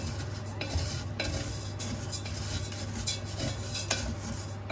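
Coconut shell pieces dry-roasted in a pan until black, a continuous close scraping stir with dry rustling crackle and occasional clinks of the utensil against the metal, no voices.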